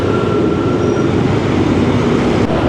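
A train rolls past on a railway in Colombo, Sri Lanka, a loud, steady rumble of wheels and carriages that holds close and constant throughout.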